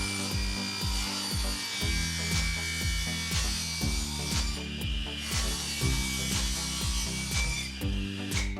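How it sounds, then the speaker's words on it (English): A power saw rips a wooden 2x4 lengthwise down to 2 inches for a rustic outdoor storage bench, giving a steady, loud, close whine with a rhythmic rasping pulse as the blade cuts through the wood, with no voices. "we're going to rip one of these 2x4s down to 2 inches"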